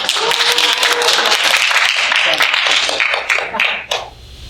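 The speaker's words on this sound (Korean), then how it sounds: "오랜만에 오셨는데 박수로 한번." Church congregation applauding, a dense burst of clapping from many hands that thins out and fades within a few seconds.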